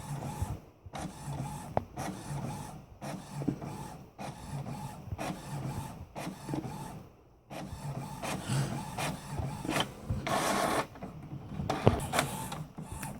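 A printer runs through a page sent by AirPrint, with a steady mechanical whirring and rasping feed, periodic short pauses and clicks, close up and alone.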